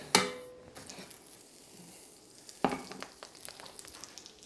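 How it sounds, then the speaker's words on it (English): Butter dropped into a hot pan for a roux, a sharp clatter then a gentle sizzling hiss, with a second clank partway through and light stirring after. "So I'm going to throw some butter into the pan."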